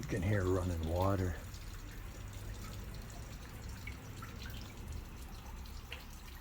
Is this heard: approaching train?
no